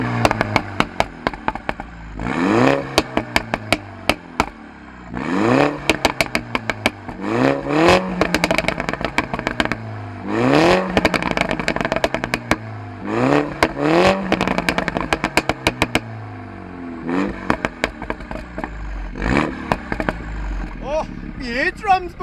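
A Mini John Cooper Works F56 hatchback with a pro exhaust, set to sport mode, revs repeatedly in loud rising and falling bursts, each rev ending in popping crackle, close by with people talking over it.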